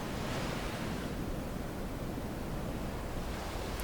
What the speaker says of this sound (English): I like the sounds of the waves.